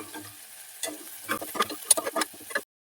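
Green chilies and curry leaves frying in oil for raw banana bonda, a soft sizzle that swells with a quick run of crackles and spatula scrapes before cutting off abruptly.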